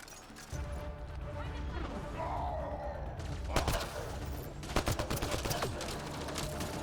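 Gunfire in the video game Mass Effect: Andromeda, rapid bursts of shots and sharp impacts, loud and close, under a voice talking alongside game sounds.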